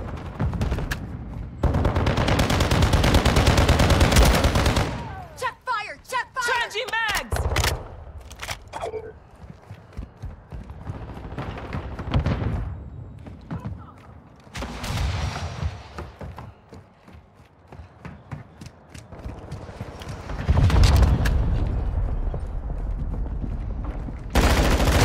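Gunfire from the Modern Warfare 2 video game cracks in repeated loud bursts and sustained automatic fire, with mechanical clatter and brief lulls between volleys over about twenty-five seconds.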